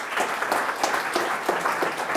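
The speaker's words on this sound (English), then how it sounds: "let's give him a round of applause" Lecture audience applause fills the room at a steady moderate level, a dense wash of many hands clapping with small bursts throughout and no talk over it.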